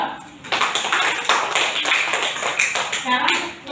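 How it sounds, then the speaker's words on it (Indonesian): A classroom group claps for the second team, a dense burst of many hands tapping together at close range, lasting a few seconds with faint voices mixed in. "tepuk tangan buat kelompok 2"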